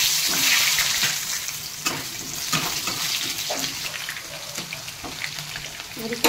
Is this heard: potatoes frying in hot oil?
yes